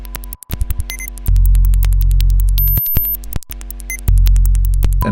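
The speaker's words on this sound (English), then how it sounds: "music is stripped to pure sine waves" Steady electronic sine tones drone and shift in stacked layers, broken by abrupt cuts, brief silences and clicky glitches, with a heavy low hum underneath.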